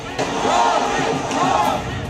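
A dense roar of a large crowd of thousands lining the streets for Yogi Adityanath's road show during the Bihar election campaign, continuous and loud, with shouts rising above the mass of voices.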